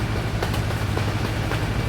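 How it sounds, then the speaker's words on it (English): A train passes in the Euro Truck Simulator driving game, a steady loud rumbling roar with faint rhythmic clatter, continuous and without talk. "Oh, that's a train."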